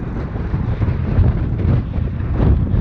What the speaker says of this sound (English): I don't know how this sound is going to come out because it is very, very, very windy up here.